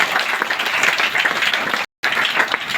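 A seated audience gives loud, dense applause, close and sustained, broken by a brief silent gap near the end.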